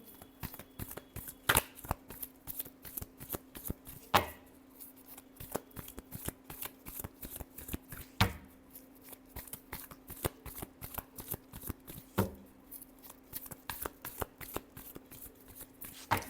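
Tarot cards are shuffled by hand in repeated quick riffling bursts, a close, crisp, rhythmic patter with a few sharper snaps between runs and no talking.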